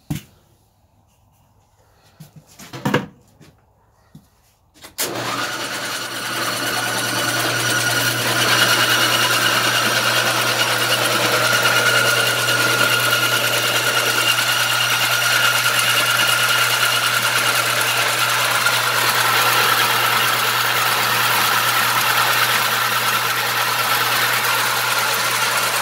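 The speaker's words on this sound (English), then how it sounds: "running it back through the grinder a second time" A feed grinder chews through rye and corn for hog feed, starting after a few quiet seconds with clunks, then a loud, steady mechanical droning roar that runs on unbroken.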